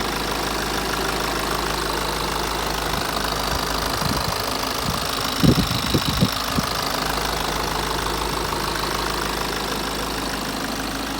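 A BMW car engine idles steadily with a low, continuous hum, a few brief knocks rising over it in the middle; no one talks.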